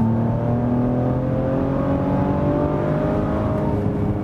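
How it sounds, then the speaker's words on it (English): A Maserati Levante S Q4 SUV with a 3.0-litre V6 accelerates at full throttle, its loud engine note rising steadily and continuously from inside the cabin with no talk. "let's push the throttle right now"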